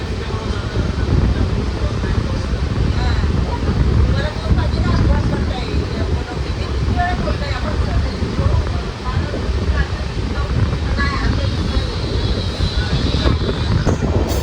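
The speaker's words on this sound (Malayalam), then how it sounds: "ഉച്ചയ്ക്ക് ശേഷം നല്ല കാറ്റാണ് ഇങ്ങോട്ട്." Strong afternoon wind buffets the microphone aboard the Nagercoil–Gandhidham Express sleeper class, a loud, constant roaring rumble with no voices.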